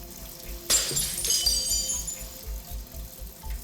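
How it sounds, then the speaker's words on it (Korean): Glass shatters suddenly at night during closing-time cleanup, a sharp crash followed by brief tinkling fragments, fairly quiet over a low steady background hum. "유리 깨지는 소리가 들리더라고요."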